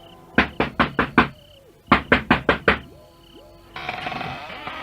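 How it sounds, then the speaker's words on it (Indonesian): Two sets of five sharp, close knocks on a door, the second set following a short pause, then a soft rustling noise rising near the end. "Ketok lebih keras lagi."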